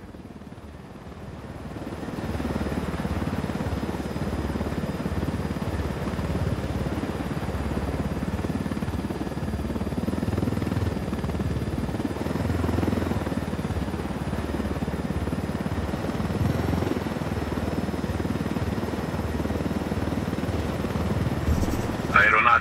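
A helicopter-like aircraft engine drones steadily and loudly as it flies through a canyon in the video game Ghost Recon Wildlands, with a continuous rotor and engine roar that holds for the whole stretch.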